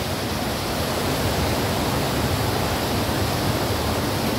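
Waterfall at Hintersee, a powerful mass of water pouring down in a dense, steady roar, loud and close with no voices.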